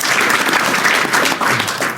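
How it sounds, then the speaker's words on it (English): A panel audience at a comics festival claps for an art competition entrant, a brief, loud burst of close applause lasting about two seconds. "A round of applause to Sinclair."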